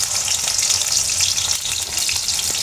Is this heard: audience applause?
no